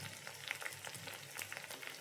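Dried red chilies and curry leaves fry in hot oil with browning onion for a cucumber and lentil curry, giving a faint, steady crackling sizzle with small pops and light stirring, no voices.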